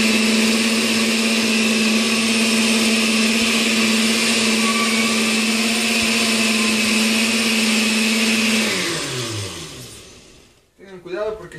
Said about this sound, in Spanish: el jitomate con la cebolla y el ajo que pusimos a cocer, los chiles guajillos, lo vamos a licuar